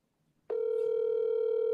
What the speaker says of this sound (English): Scotty, can you hear that ring?